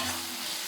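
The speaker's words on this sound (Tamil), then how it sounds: "போய் வதக்கலாம்." Masala paste sautéing in a pan for liver roast, a steady close sizzle with faint stirring scrapes, brief and unbroken, with no voices.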